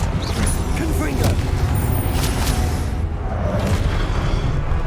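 Confringo blasting spell from Hogwarts Legacy, a dense, continuous rumbling boom of magical explosions layered with crackling combat effects, loud and sustained throughout without a clear break.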